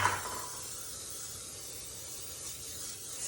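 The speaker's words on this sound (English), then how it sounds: "Spray the baking pan first" Cooking spray hisses from a can onto a baking pan, a single steady spray lasting about three seconds, close and fairly quiet.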